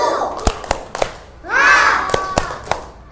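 Schoolchildren in an Indonesian classroom doing a rhythmic clapping cheer, sharp group claps in a patterned beat with a burst of shouting voices in the middle.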